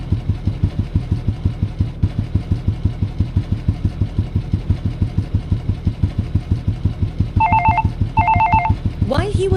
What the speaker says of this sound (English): his phone suddenly vibrated with a call